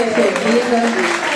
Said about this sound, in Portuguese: Pode aplaudir mais para ela.